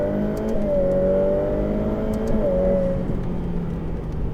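A Ferrari F8 Tributo accelerates on a track, its engine pitch climbing in a smooth whine, shifting up and climbing again in a second pull, heard from inside the car without talk.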